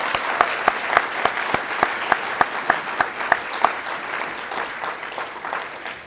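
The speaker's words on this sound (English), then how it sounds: "Let's give another warm round of applause to Dr. Bukusi." Audience applause at a global health lecture after a talk, with loud individual claps standing out at first before easing into a steadier, fading round of clapping with no talking.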